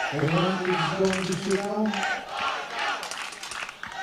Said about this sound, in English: the Spanish crowds are shouting Encana, Encana